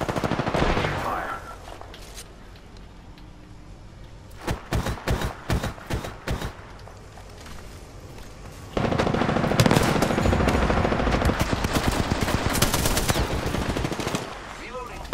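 Bursts of automatic weapon fire from a first-person shooter with shields and champions, rapid rattling volleys that come in and out, then a long dense stretch of continuous loud shooting near the end.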